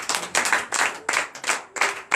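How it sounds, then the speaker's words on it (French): Clapping at a night deliverance and prophecy service, rhythmic bursts of hand claps in regular beats, fairly close and moderately loud, with no talking. "Donnez l'acclamation"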